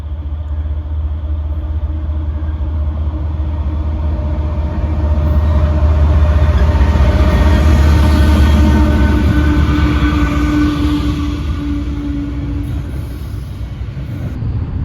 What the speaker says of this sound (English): Here comes train number, I believe it's 6 I've seen for the day.